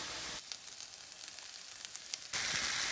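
Carrots and onion sizzle and fry in a pan with salt, pepper, cumin and turmeric, a steady crackling hiss that drops lower in the middle and swells again near the end.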